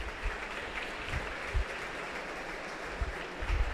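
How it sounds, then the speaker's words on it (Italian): Applause fills a boxing arena for two very young boxers at an IBO Continental bantamweight title event, a soft, steady patter of clapping spread across the crowd, with a few louder bursts of claps. "Bello l'applauso di accompagnamento a questi due giovanissimi."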